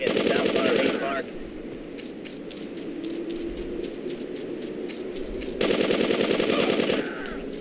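Rapid machine gun fire in the video game GTA 2, loud sustained bursts at the start and near the end with quicker scattered shots between, while someone speaks over it.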